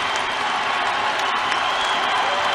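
An ice hockey arena crowd in the EIHL roars and applauds after a player drops his opponent in a fight, a sustained dense wash of cheering with no clear gaps.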